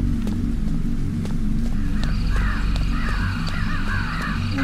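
Crows caw repeatedly outside a house in a Japanese kidnapping horror video game, several harsh calls in a row over a low rumbling background and faint footsteps.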